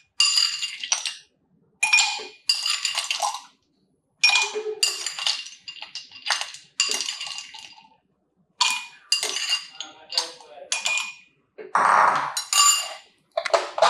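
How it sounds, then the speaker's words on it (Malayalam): Ice cubes drop and clink into a glass of orange juice in bright, sharp bursts separated by short pauses, close up and with no voices. "നിങ്ങളുടെ ആവശ്യത്തിനനുസരിച്ചുള്ള ഐസ് ക്യൂബ്സ് നിങ്ങൾക്ക് ആഡ് ചെയ്യാവേ"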